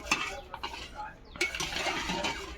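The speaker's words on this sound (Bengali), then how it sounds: "এই খঞ্জি দিয়ে একটু নেড়ে চেড়ে" Food turned in a pot with a spatula, with scattered clinks and scrapes of metal over a low bubbling background, fairly quiet and close.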